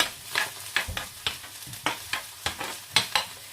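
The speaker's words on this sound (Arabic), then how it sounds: "غادي نحرك." Chicken breast and onion frying in a pan are stirred with a utensil, giving a series of about a dozen sharp scraping strokes at an even rhythm over a soft background sizzle, close up with no talking.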